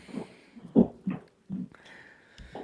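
A dog barks in the background a few times, short separate barks with quiet gaps between them, fairly distant and with no talking over them.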